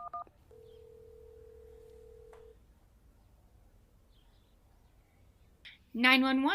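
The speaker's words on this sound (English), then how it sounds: "you dial 911 on your cell phone" A mobile phone keypad beeps a short run of tones, then a long steady tone while 911 is dialed as a story game sound effect, followed by a voice starting to speak.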